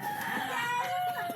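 A rooster crows once close by, a short bright cock-a-doodle-doo with a few clucks from chickens around it.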